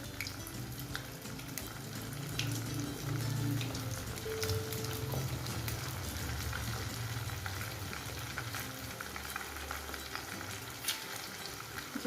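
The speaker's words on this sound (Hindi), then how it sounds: "आप भी इसको घी के अंदर डालकर अच्छे से फ्राई कर लीजिए।" Bati pieces fry in ghee in a kadhai, a steady soft crackle and bubbling sizzle running throughout with light stirring clinks, close and even, no talking.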